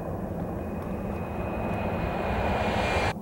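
An airplane flies overhead in a video game, its engine drone steady and broad, swelling slightly louder toward the end before cutting off abruptly. No voices are heard.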